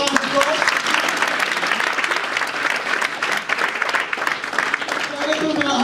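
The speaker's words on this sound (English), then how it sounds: "let's give them a round of applause" A live audience at a UK launch event claps for guests in a loud, sustained round of applause, dense crowd clapping throughout with some voices mixed in near the end.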